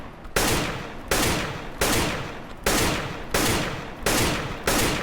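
Counter-Strike gunshots ring out in a steady rhythm, seven loud single shots about 0.7 seconds apart, each a sharp crack with a short decaying tail, with no talking.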